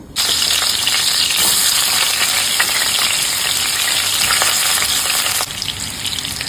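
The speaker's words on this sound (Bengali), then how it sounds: "এবারে এই কড়াতেই আমি আলুগুলোকে ভেজে নেব" Steady, loud sizzling of potatoes frying in hot oil in a wok, continuous throughout with faint stirring scrapes and a slight drop in intensity near the end.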